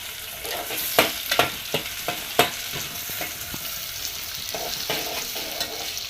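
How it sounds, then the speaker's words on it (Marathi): Ginger, tomato and masala fry in a pan for chicken biryani as a spoon stirs, sharp scraping knocks punctuating the steady sizzle, close and without speech. "तर हे सगळं छान प्रकारे मिक्स करून घ्या"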